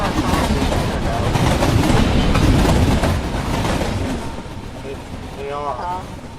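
Train rumbling along in the Roblox game, a steady loud rolling roar that eases off toward the end, with faint talk mixed underneath.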